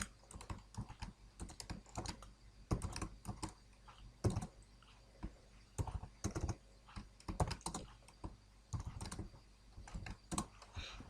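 Code operators are typed on a computer keyboard, irregular bursts of crisp key clicks with short pauses between groups, close and fairly quiet, with no talking.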